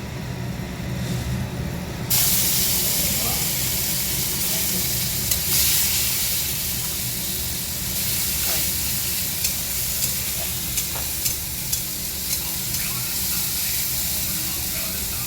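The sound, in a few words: tempering nigella seeds, dried chilli and bay leaf in oil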